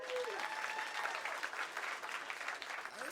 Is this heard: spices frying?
no